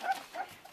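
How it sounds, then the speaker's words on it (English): Puppies from a litter yip and whimper in brief, fairly faint bursts, a couple of short high cries close together. "Trying to talk louder over these other puppies."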